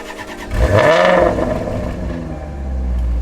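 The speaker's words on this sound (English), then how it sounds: "it's good to hear a car start up from cold" A naturally aspirated V8 car engine cranks from cold and catches, then settles into a loud, rumbling idle with a brief rev near the start.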